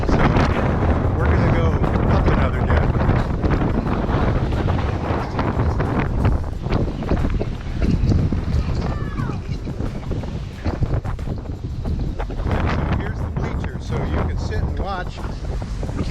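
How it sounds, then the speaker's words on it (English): Strong wind buffets the microphone on the open jogging track of the Norwegian Gem cruise ship deck, a steady roaring rumble throughout, with a voice faintly heard under it. "it's very windy out here"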